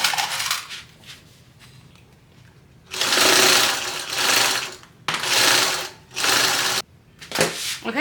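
A sewing machine joins side pieces of a garment at a 3/8 inch seam allowance, running in four loud close bursts of steady stitching separated by brief quiet pauses and handling noise.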